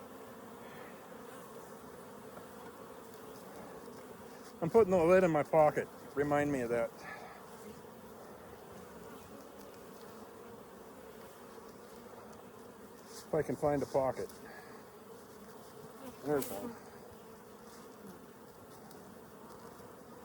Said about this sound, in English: Bees are not liking me right now,